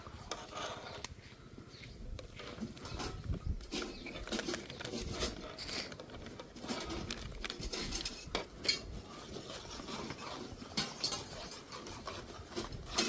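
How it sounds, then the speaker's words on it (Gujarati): A spoon stirs thickening milk in a pan for fruit salad, giving soft, irregular scrapes and light metallic clinks against the pan, fairly quiet and continuous throughout. "થોડીક વાર હજી આપણું દૂધ ઘાટું થાય ત્યાં સુધી આપણે આને હલાવશું."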